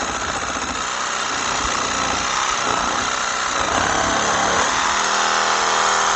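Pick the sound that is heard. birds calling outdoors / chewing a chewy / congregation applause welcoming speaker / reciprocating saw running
reciprocating saw running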